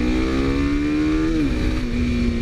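A 2015 Kawasaki Ninja RR Mono single-cylinder motorcycle engine holds a loud, steady, buzzing rev. The pitch climbs slightly, then drops sharply partway through, with no talking.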